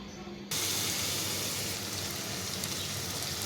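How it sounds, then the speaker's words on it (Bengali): Chunks of papaya hit hot oil with a shrimp masala and start frying, a sudden steady wash of close sizzling that holds evenly after a quiet start. "মশলাটা একদম কষাই নিলাম এবার তেলটা উপরে উঠে গেছে এবার পেঁপেটা দিয়ে দিব এই এই যে এখন পেঁপেটা কষিয়ে নিতেছি"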